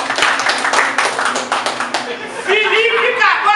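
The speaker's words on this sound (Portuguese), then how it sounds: "uma salva de palmas, campeão" Clapping for a South American bench press champion, a dense burst of hand claps in the first two seconds that thins out as a voice begins speaking over the tail.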